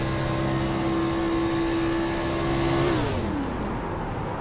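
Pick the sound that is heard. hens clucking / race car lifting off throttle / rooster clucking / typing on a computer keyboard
race car lifting off throttle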